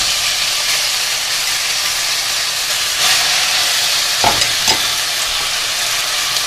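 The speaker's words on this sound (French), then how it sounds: "je vais faire dorer ma viande" Pork pieces brown in hot oil in a pan over high heat, giving a loud, constant sizzle and hiss with a few soft scraping knocks of stirring near the end.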